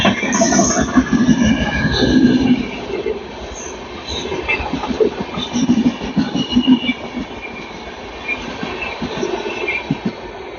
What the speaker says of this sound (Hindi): तो देखते हैं जनशताब्दी का क्रॉसिंग पहले।